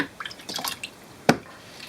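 Water drips and splashes around a sharpening stone soaking in a basin, a few soft splashy sounds followed by one sharp, close drip, with quiet pauses between.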